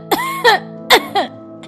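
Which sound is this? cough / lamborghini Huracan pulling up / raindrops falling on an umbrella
cough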